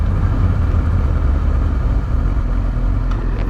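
A 2003 Yamaha R6 motorcycle engine runs steadily nearby, a loud continuous low rumble with no talking.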